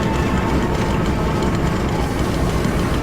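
A giant machine engine in the horror game Amnesia: A Machine for Pigs gives off a dense, continuous low rumble, loud and unbroken, like heavy industrial machinery idling close by with no voices over it.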